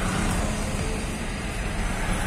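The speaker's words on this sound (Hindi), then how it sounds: "बहुत ज्यादा ट्रैफिक है।" Mumbai road traffic heard from inside a car, a dense, steady rumble of engines and tires pressing in from all sides, moderately loud and continuous with no talking.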